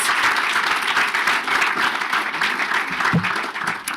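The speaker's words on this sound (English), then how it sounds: "Give yourselves and each other a round of applause." A conference audience at a South African brand awards event bursts into loud, sustained applause, a thick, continuous roar of many clapping hands filling the room with only faint crowd murmur beneath.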